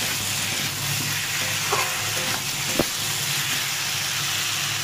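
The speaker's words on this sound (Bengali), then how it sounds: "এই সব দিয়ে ভালো করে কষিয়ে নেব।" Malabar spinach with prawns and potatoes sautéing in a pan, a steady soft sizzle with a few brief clinks and scrapes of a spoon stirring, close and alone without talk.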